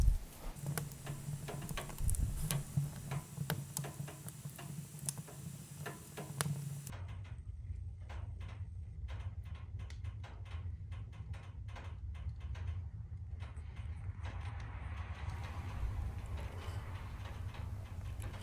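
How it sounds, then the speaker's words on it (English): Metal wood stove ticking and creaking as it heats and expands around newly burning logs, with irregular sharp clicks over a low steady rumble of the fire. "When you hear this creaking, this is coming from the wood stove, because the wood stove is out of metal"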